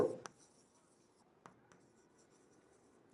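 Marker or chalk writing on a board in a quiet room, a couple of short scratchy strokes and taps, faint and close.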